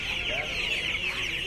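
Hens and ducks cluck and squawk together at the busy Uluberia poultry market, a dense continuous chatter of many birds at close range, with a few faint voices mixed in.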